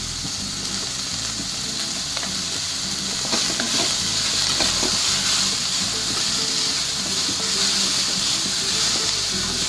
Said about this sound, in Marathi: हे आता आपल्याला छानसं मिक्स करून घ्यायचं आहे.